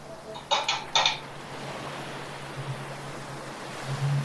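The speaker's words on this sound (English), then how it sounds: "Adding a lot of water." Water runs steadily while something is rinsed and washed off, a constant rushing hiss preceded by a couple of sharp clinks of hard objects knocking together near the start.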